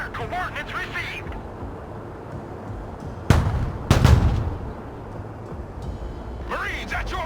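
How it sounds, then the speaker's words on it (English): Artillery fires in the video game Broken Arrow, two loud, heavy booms in quick succession with rumbling tails, with voices speaking before and after. "Artillery, prepare to fire!"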